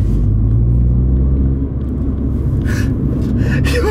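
Cabin engine noise in a Mini JCW GP3 hot hatch, a constant loud low rumble with rising revs near the end, filling the interior with no talk over it.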